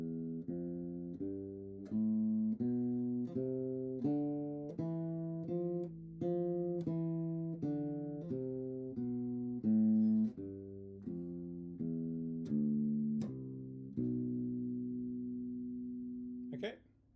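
A bass guitar plays a ii–V–I progression line as a steady run of plucked notes, close and clear, each one decaying before the next, with a longer held final note.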